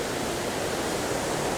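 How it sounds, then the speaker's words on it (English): Water spills over an old river dam beside a mill in Luling, Texas, a steady, broadband rushing close by that holds constant and loud with no pauses or voices. "The water is coming down here"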